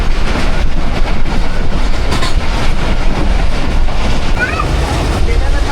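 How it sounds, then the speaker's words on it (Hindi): The 44 Down Shah Hussain Express, led by GU40 locomotive 9045, rushes past close by, a loud continuous roar of rolling wagons with rhythmic wheel clatter throughout. "तो जी ये थी sister train 44 down Shah Hussain express, अचानक से आ गई।"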